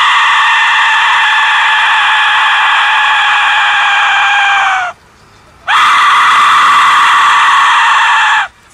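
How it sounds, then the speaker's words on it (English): A death whistle gives two long, piercing shrieks like a human scream, loud and sustained, separated by a brief pause. "So this is the dead whistle."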